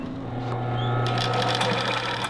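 A sewing machine runs steadily, stitching around a patch pocket for a coat, a close continuous motor whir that climbs slightly in speed partway through, with no talk.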